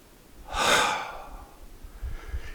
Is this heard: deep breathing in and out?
yes